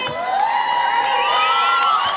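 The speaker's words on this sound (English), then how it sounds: "The Suriname players hearing it from the home crowd." A home crowd at a women's basketball game between Suriname and Guyana, loud shouting and high whooping cheers from many voices, continuous and close, swelling throughout.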